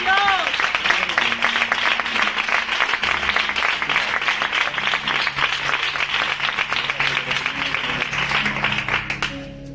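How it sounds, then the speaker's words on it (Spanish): A church congregation applauding after a sermon on the divinity of Jesus, dense sustained clapping that fills the space for nearly ten seconds, with voices mixed into the crowd. "le dan un fuerte aplauso a él"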